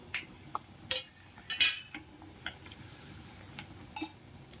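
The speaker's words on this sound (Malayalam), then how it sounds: "ഈ വറുത്ത് വെച്ചിട്ടുള്ള കൈപ്പയ്ക്ക് അതിലേക്ക് ഇടാം" Fried bitter melon is tipped into a pan and stirred for pachadi, with a handful of sharp, scattered clinks and scrapes of a utensil against the pan over a faint low sizzle, no voices.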